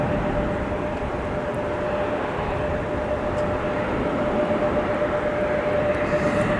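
A Delta A330neo twin-jet airliner departs Minneapolis–St. Paul Airport during a winter storm, its engines producing a loud, steady broadband roar that holds evenly throughout with no voices.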